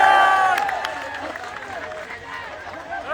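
Crowd applause and cheering at an outdoor SSC protest in Delhi's Ramleela Maidan as teachers arrive, a dense wash of clapping that fades slightly, with voices mixed in.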